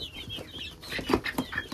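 Baby chickens clucking in a coop, a few short soft clucks and chirps in quick succession, close by and fairly quiet against light background noise.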